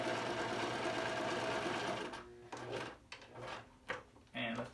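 A sewing machine back stitches and stitches forward on a cotton face mask, a steady close whir that breaks into short stop-start runs, with someone talking over it.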